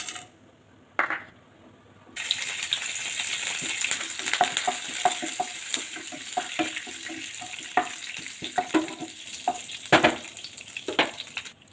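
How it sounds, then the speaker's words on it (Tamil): After a brief quiet start, a steady sizzle of hot oil breaks into rapid, irregular pops and crackles of mustard seeds spluttering close by, with urad dal and chana dal added. "கடுகு நல்லா பொரிஞ்சு வந்தோம்னா"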